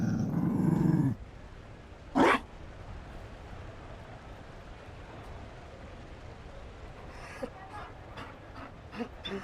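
A Mabari war dog in the video game Dragon Age Inquisition gives a loud, close, low growl lasting about a second, then one sharp bark, followed by quiet background ambience with a few faint clicks.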